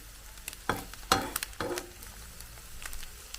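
Sunny-side up eggs fry in a pan with soft sizzling and a few sharp crackling spurts and pops, faint and close, with quieter hiss between the bursts.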